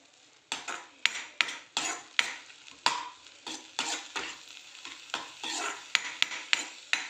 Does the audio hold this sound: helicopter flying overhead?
no